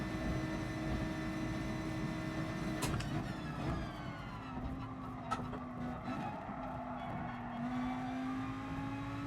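A race car in the GT Sport game on the Tokyo circuit, its engine whining at high revs, then a gear shift into third drops the pitch before the engine climbs again, loud and close, with no voices.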